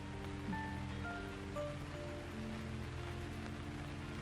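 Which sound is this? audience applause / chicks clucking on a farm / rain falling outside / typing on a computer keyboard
rain falling outside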